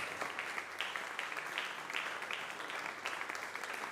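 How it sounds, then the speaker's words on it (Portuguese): Congregation at a Portuguese-language church service claps in praise, a continuous, fairly faint wash of applause heard from a distance. "dê um aplauso ao Senhor"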